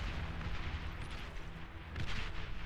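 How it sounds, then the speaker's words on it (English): Artillery fires in the real-time strategy game Beyond All Reason, heard as a dense, continuous rumble of distant booms and blasts with a slight swell toward the end. "Have some artillery going off from Ollie now."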